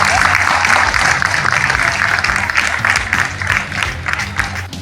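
A crowd in a church claps together in sustained applause, loud and steady, fading slightly toward the end.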